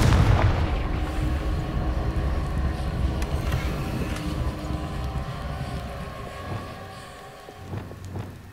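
A Confringo blasting spell explodes in Hogwarts Legacy, a heavy booming blast with rumbling low end that rolls on through the scene, with more sharp impacts and crackles near the end.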